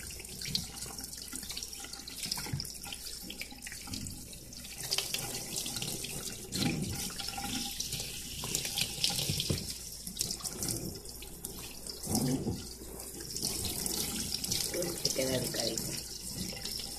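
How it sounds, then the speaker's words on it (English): Water runs steadily from a shower, a continuous hiss and splatter with shifting splashes over seventeen seconds, while voices talk intermittently nearby. "taking a shower"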